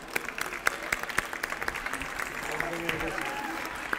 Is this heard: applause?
yes